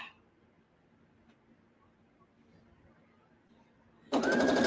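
A sewing machine stitching a quilt top kicks in abruptly near the end, a loud, fast mechanical whir breaking a long stretch of near-quiet room tone.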